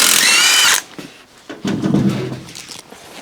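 A power tool whirs loudly for under a second while removing a wheel from a Willys Jeep with a Dana 30 axle. Clanking and rattling of parts follow nearby.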